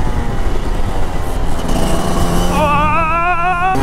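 Rotax 125 Max DD2 two-stroke racing kart engine under way, a loud continuous buzzing drone with rising harmonics as it accelerates, steady and close throughout.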